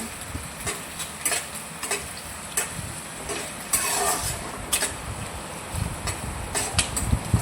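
Finely chopped onions and chillies fry in oil in a pan for pasta, giving a steady hiss broken by repeated sharp scraping strokes of a spoon stirring at an uneven rhythm.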